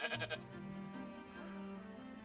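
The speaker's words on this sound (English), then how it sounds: "we ended up getting Barbados Blackbelly sheep" Barbados Blackbelly sheep on a silvopasture in a sugarbush give a single faint, drawn-out bleat after a few brief knocks, heard from a distance with no talk.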